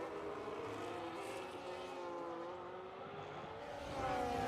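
Race cars, an Audi among them, brake and accelerate through a chicane at Silverstone, engines whining and shifting pitch at moderate distance, swelling louder near the end.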